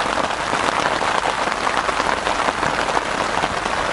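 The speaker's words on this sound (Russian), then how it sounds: "опять дождь пошел" Steady rain patters densely and loudly on a tent during a bream fishing trip, a continuous close hiss of drops with no pauses or voices.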